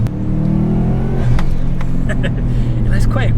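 A turbocharged Subaru Impreza P1 accelerates under boost, its engine rising in pitch with a loud, close roar, turbo whoosh and sharp chirps; someone talks over it.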